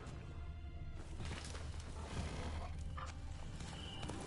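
Hoofbeats of the horse Roach in The Witcher 3, a steady clip-clop rhythm running under a continuous low rumble of game sound throughout.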